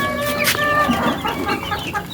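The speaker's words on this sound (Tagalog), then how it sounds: "Yung ating nagkasipon na manok." A hen recovering from a cold clucks in short, close, repeated bursts, with a sharper squawk near the start and softer throaty clucks after, against faint farmyard background and no speech.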